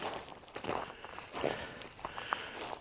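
Footsteps walk back to a parked car after a drone flight, soft irregular scuffs and crunches at a moderate distance, faint and steady over a short stretch.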